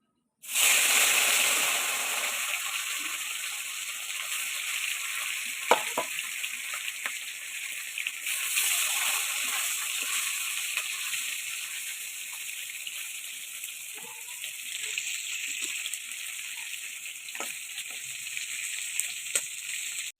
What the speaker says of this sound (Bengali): তেল ভালো করে গরম হয়ে এলে আমরা মাছগুলো ভেজে নেব